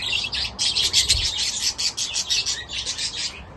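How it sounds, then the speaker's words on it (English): Budgies in an aviary chirp and twitter continuously at close range, a busy overlapping chatter of bright, rapid calls with no speech. "I have to sell these gorgeous birds, and we wind the aviary down."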